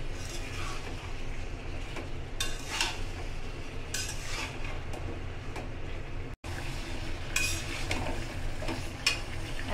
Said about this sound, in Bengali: এখন ভালোভাবে মিশিয়ে তারপর কষিয়ে নেব।